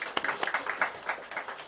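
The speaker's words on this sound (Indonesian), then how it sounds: "Tepuk tangan, haleluya" A wedding congregation applauds during the marriage ceremony: a brief, fairly quiet patter of scattered claps in an irregular rhythm, heard from a distance without talk.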